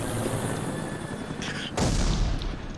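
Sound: gunfire in the Roblox game After the Flash: Overcast

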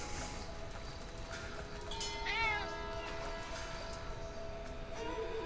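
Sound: cat meowing in video game GTA V

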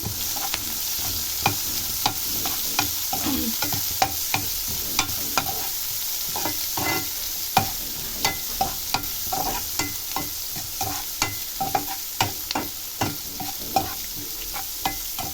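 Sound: frying curry leaves in pan, sizzling and stirring

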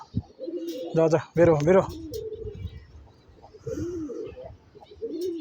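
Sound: pigeons cooing

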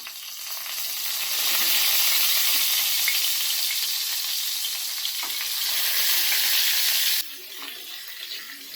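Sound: eggplants frying in oil in a pan

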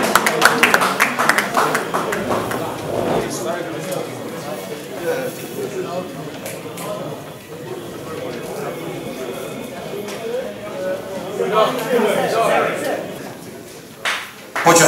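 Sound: audience applause at a boxing federation event

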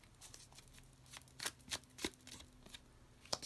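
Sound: tarot cards being shuffled and pulled

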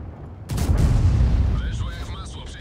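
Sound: tank cannon shot hitting in video game World of Tanks

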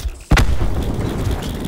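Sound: cluster grenade explosion in the video game Black Ops 4

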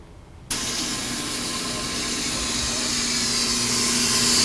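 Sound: machine polishing a Harley-Davidson valve

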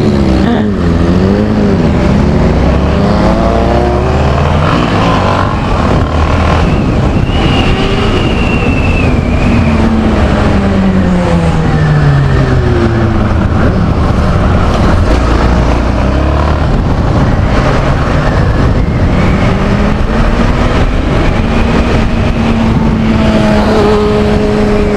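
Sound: Yamaha XT660 motorcycle engine revving

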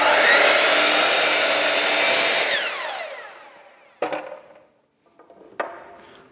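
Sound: miter saw with tilted blade cutting corners off wood

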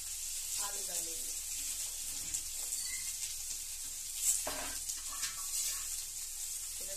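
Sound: boiled potatoes sizzling as they are added to frying pan

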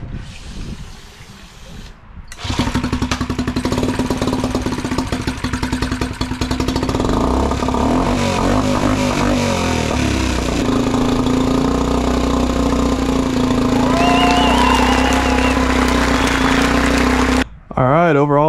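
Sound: Mercury outboard motor starting and running

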